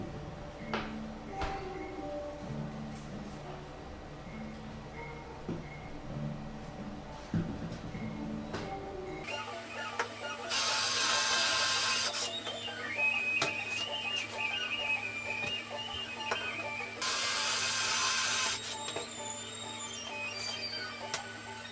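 A diamond drill bit bores through travertine natural stone during a bathroom floor install, roaring in two loud, steady bursts of a few seconds each over a background hum.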